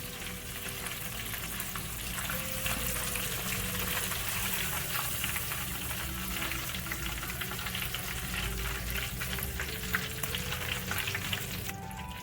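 Chicken pieces fry in hot oil with a steady, dense crackling sizzle, close up and continuous, with faint stirring and no talking.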